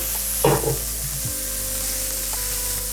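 Ginger and garlic frying on low heat in a pan for dal fry, a steady gentle sizzle with a brief scrape or stir near the start.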